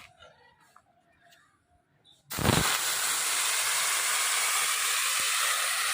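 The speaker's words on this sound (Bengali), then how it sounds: "এবার এই তেলের মধ্যে শাকটা ভাজা নেব" Greens dropped into hot oil in a home kitchen pan, fried with garlic and chilli: a sudden loud burst of sizzling that settles into a steady, dense crackling hiss after a quiet start with faint background sounds.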